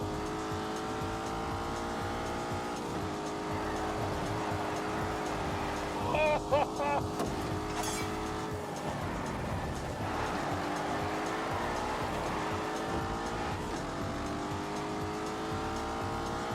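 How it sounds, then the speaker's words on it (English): A twin-turbo 4-litre V8 car engine producing 510 horsepower drones steadily in The Grand Tour Game, with a brief tyre squeal partway through. Voices talk over the engine throughout. "Then we come to the engine. It's a 4-litre V8. It has twin turbos. It makes 510 horsepower."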